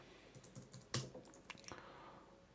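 A password is typed on a computer keyboard in a quiet room: a short run of faint, irregular key clicks with one sharper tap, fairly close and without talk.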